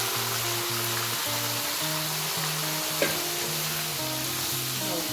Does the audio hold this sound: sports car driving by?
no